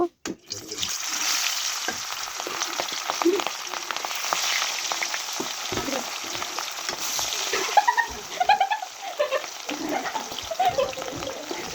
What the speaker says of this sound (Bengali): এখন মাছগুলো সুন্দরভাবে ভেজে নিব